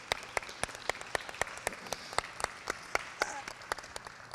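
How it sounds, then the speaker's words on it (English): Sparse, rhythmic clapping from a small audience for Torian at his William Penn University signing, a few distinct hand claps in a steady beat with faint background voices. "So let's give Torian a big round of applause"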